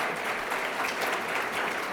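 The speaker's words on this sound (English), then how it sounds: "I want you to give her a round of your applause" Applause from a church congregation at a bicentennial celebration of Dixwell Avenue Congregational United Church of Christ, a steady, dense wash of many hands clapping throughout, with no voices over it.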